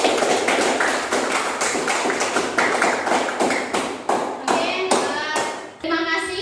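A class of children applauds together in a classroom, dense overlapping handclaps continuing steadily for several seconds, loud and close, thinning slightly near the end.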